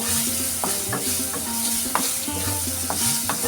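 Masoor lentil dal with turmeric and hog plum is stirred in a hot pan, making a soft sizzle broken by repeated scraping strokes of the spoon at a fairly even pace, close by and with no voices.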